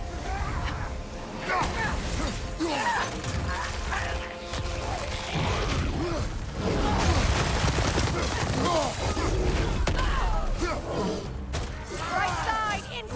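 Rapid, dense gunfire and impacts in the PS5 game God of War Ragnarök, loud and continuous with crashes and mechanical clatter, while voices shout over the barrage.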